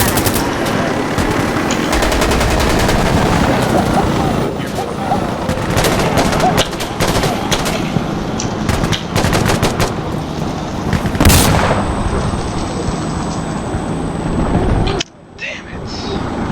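Chain cannon fire from the video game Insurgency Sandstorm, dense rapid bursts of heavy gunfire and booms during a push round, loud and continuous with game noise throughout.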